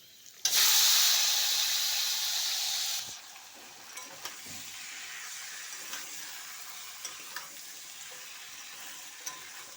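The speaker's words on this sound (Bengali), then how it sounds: "এখন দিয়ে দিচ্ছি ম্যারিনেশন করা চিকেন।" Marinated chicken tipped into a pan of fried onions sets off a sudden loud burst of sizzling steam, which settles after a few seconds into a quieter frying hiss broken by stirring clicks.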